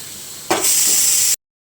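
Tomatoes tipped into a hot pan of brinjal (eggplant) curry set off a sudden loud sizzling hiss that holds steady for about a second before cutting off abruptly.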